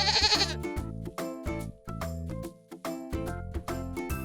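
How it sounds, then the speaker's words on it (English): Goat bleating in a repeated, wavering series of nasal calls with brief gaps, close and clear against light background music. "Goat."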